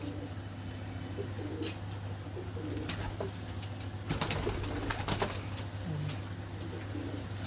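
Pigeons in a breeding loft coo in soft low repeated calls, steady throughout, with scattered clicks, flutters and brief background noises.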